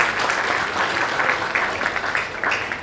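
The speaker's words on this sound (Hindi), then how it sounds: "एक जोरदार तालियां हो जाए सुंदर जी के लिए।" An audience claps for a performer at a comedy night and cultural honours ceremony, with sustained, fairly loud applause that swells and fades in small waves.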